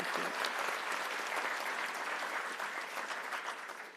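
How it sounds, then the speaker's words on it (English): An audience at an awards ceremony gives sustained applause, a dense, even wash of many hands clapping at steady volume for several seconds. It tapers slightly at the end, with no voices standing out above it. "So please give a round of applause for last year's recipients"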